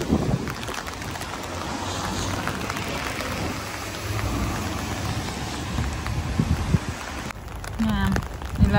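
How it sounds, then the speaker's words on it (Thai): Steady rain falls in a continuous, even hiss at moderate volume, with a few brief knocks and rustles near the end. "ได้ยินแต่เสียงฝนด้วย"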